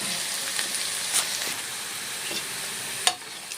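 Garlic and curry leaves fry in oil until crisp for a quick pickle, making a continuous close sizzle broken by occasional sharp pops and stirring scrapes, with no one talking.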